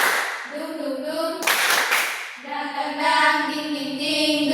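A group claps in time during a classroom group-guidance chant, with a sung, voiced melody running over the sharp hand claps, which come in a loud burst midway before the chanting resumes.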